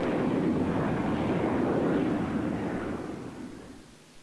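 A British Airways jet climbs steeply away after takeoff, a loud broad roar that holds steady and then gradually fades toward the end.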